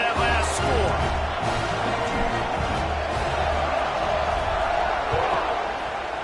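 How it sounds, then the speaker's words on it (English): A football stadium crowd keeps up a steady, dense roar and buzz after a score during an American football game, with a commentator's voice running over the noise. "this crowd is buzzing after that last score"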